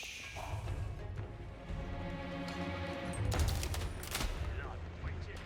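Hand cannon emplacement firing during an Age of Empires 4 match, heard as a burst of sharp gunfire cracks around the middle of the clip over a dense background of battle noise.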